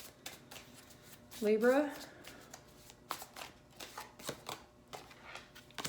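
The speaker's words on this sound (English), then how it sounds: "Okay, how do you feel? 3 shuffles." Tarot cards riffled and shuffled by hand in brief crisp bursts, close up, between soft spoken words of a love reading.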